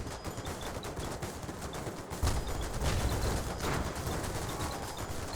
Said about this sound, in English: Hit the dragon with heavy cannons by all means